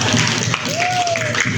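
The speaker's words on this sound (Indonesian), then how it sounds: "Tepuk tangan buat kita semua." A class of students claps loudly in a quick, brief round. A voice carries over the clapping at the same time.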